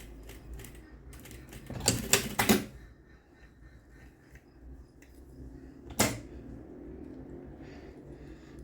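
Short burst of domestic sewing machine stitching in reverse on the fly of tailored shorts near the zipper, a dense rattling run around two seconds followed by a single sharp click, in an otherwise quiet room.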